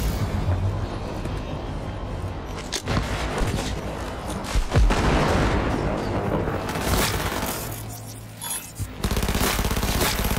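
SMG fire in the video game Cyberpunk 2077 comes as rapid bursts mixed with booms and dense combat noise, steady and fairly loud throughout, with faint voice in the background.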